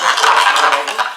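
Chicken wings for oven baking get tossed with sauce, metal utensils clinking and scraping against the dish in a quick, steady close-up rattle with no talking.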